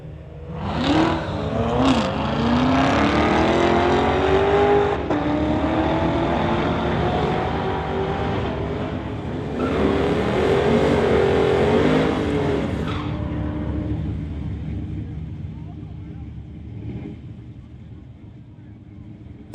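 A 2016 Corvette and a BMW launching side by side at a street-legal drag race, engines roaring loudly with rising gear pulls, then fading into the distance as an announcer talks.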